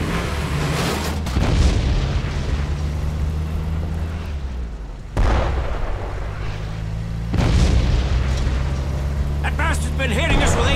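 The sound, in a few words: 88 gun fire explosions in Brothers In Arms video game cutscene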